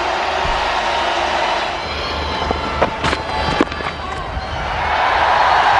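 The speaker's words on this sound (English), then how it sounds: "Huge roar from the crowd." A Test match crowd between India and England roars steadily throughout, a broad sustained wash of voices with a few sharper swells near the middle, while a commentator talks over it.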